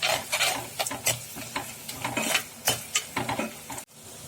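Onions sautéing in a pan for a sardine (mathi meen) curry, with repeated close scraping strokes of a spoon against the pan over a low sizzle, steady and clear, ending in a brief pause.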